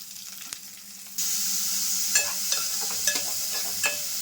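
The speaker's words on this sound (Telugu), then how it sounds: "ఇప్పుడు ఉల్లిపాయలు కూడా వేసేస్తున్నాం" Sliced onions hit hot oil in a pan already holding garlic cloves, green chillies and curry leaves, and the sizzle jumps suddenly louder, then holds steady with a few sharp pops and spoon scrapes.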